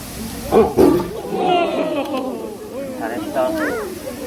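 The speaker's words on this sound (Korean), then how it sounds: "네, 이게 호랑이 소리예요." A Korean tiger at Everland zoo gives low growling roars, close and loud, with two sharp bursts early and softer grumbles after; people talk over it.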